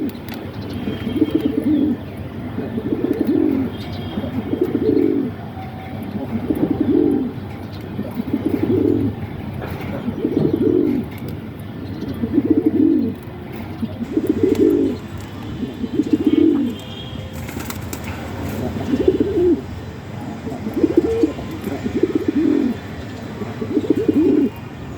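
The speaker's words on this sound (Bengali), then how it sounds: "কবুতর দুটো অনেক ছটফটি" A pair of restless pigeons in a loft coo in regular repeated bursts, deep throaty calls spaced about every second and a half, close and loud with faint chirps behind.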